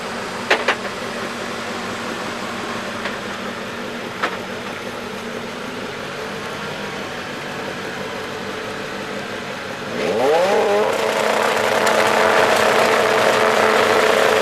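Race cars at the Dreux circuit sound from a distance as a steady engine drone, then one swells close with a rising acceleration sweep and stays loud and roaring to the end.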